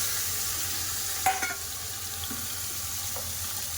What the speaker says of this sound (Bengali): কড়াতে আলু ভাজার তেল আছে এতে চিংড়ি মাছ ভেজে নেবো